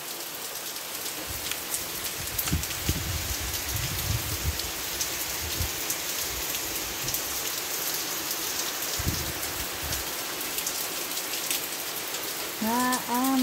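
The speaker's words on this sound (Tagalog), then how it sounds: "Grabe, ang lakas ng ulan." Heavy rain pours steadily onto a home garden of rose plants, a dense, continuous hiss with scattered heavier drips spattering nearby surfaces, loud and unbroken throughout.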